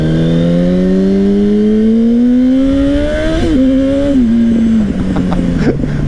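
A sport motorcycle with slip-on exhaust pipes revs up close and loud, pitch climbing smoothly through one long pull, then shifting and dropping back before a final blip.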